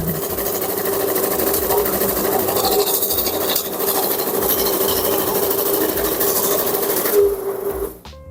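A BND MC 989 banknote counting machine whirs and flutters steadily at a slower pace, a continuous mechanical rattle that runs on and then winds down to a stop.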